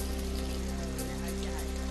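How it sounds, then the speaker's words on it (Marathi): Heavy monsoon rain pours in Chiplun, where low-lying areas are waterlogged, making a continuous, even hiss of downpour with a faint low hum beneath it. "चिपळूणमधील मुसळधार पावसामुळे सखल भागात पाणी साचलं"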